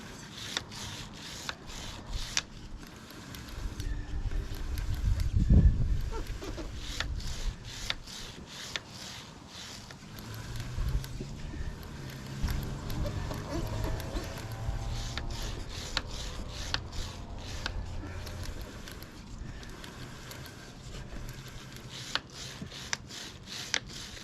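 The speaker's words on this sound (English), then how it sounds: "holding the brush so it cleans the 4th side that I missed the first time" Stiff brush scrubbing a kerosene-soaked motorcycle chain, a steady close rasping rub with quick repeated strokes and a brief louder scrape partway through, no voices.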